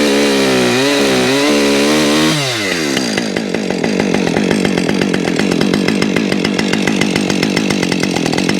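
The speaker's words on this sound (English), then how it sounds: "I'll shut the saw down" Small chainsaw cutting limb wood for firewood, loud and close, revving with a rising whine before biting into the wood with a steady rattling cutting roar.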